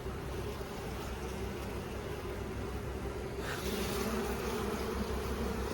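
Bees buzz busily inside an opened beehive during a honey inspection, a dense, steady drone up close that swells slightly louder toward the end, with no voices.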